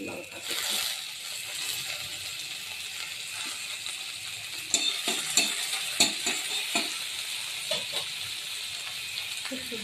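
Chopped garlic, ginger and chili frying in hot mustard oil, a close steady sizzle with hiss and intermittent clinking stirring knocks, a voice talking faintly over it.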